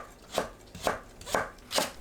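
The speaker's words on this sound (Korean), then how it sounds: "당근을 곱게 채 썰어줍니다." A knife finely julienning carrots on a cutting board gives four evenly spaced, crisp chops, close and clear, with quiet gaps between strokes and no voices.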